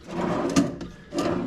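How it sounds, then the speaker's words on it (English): Wooden drawers in a resort hotel room slide open and shut, giving two short, close thuds with a scraping rumble between them. "Drawers."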